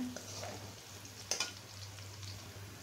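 Onion, garlic, cumin and chilli paste fry in a pan with a steady close sizzle, broken by a couple of sharp scraping strokes of a spatula partway through.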